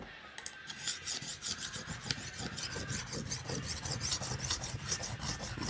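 A big knife drawn repeatedly across a ceramic King whetstone, a steady rhythmic grinding rasp of short strokes, close and fairly quiet with no talking.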